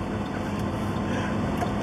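A loaded truck with a Detroit DD15 engine pulls under load, a deep steady rumbling drone with a constant whine, heavy and continuous from inside the cab.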